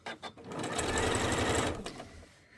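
A sewing machine runs in a short, steady burst of stitching through a heavy quilt in a floating studio. The close, rhythmic motor whir rises, holds for about a second and a half, then stops.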